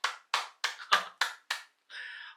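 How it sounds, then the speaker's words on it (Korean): A host claps hands six times in a steady, close rhythm during a Korean car sales ranking show, with each sharp clap ringing briefly before a short burst of noise ends it. "여러분 박수 한번 치고 갈게요."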